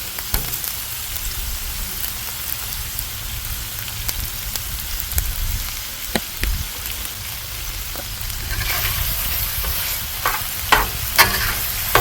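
BBQ sloppy joe meat seasoned with a rub is stirred on a hot Hasty Bake Legacy griddle. Steady close sizzling runs throughout, with scattered scraping taps and clicks from the stirring.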